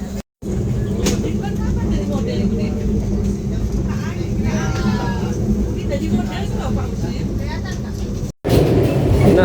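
Argo Wilis passenger train running on rails between Kertosono and Bandung, a steady loud low rumble heard from inside a carriage, continuous for the whole stretch apart from two brief drops, with faint voices in the background.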